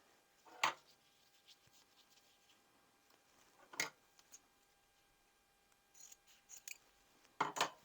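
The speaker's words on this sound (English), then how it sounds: "let me just start by cutting this piece to 11 as well" Scissors cut a piece of fabric in three sharp, distinct snips spaced several seconds apart, close and clear over a quiet background with faint handling noises.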